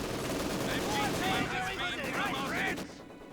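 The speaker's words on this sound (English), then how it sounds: "Maxim machine gun versus MG42, church to house" Sustained machine gun fire from a Maxim and an MG42 in the video game Company of Heroes 2, dense overlapping bursts mixed with other battle noise at steady loudness before cutting off near the end.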